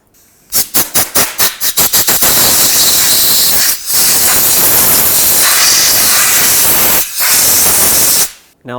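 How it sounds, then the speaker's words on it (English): An aerosol spray can of anti-seize, used on a 2009-2015 Toyota Prius front wheel bearing job, is shaken with quick rattling bursts and then sprayed in a loud, close, steady hiss broken by two brief pauses. "Now let's spray some anti-seize"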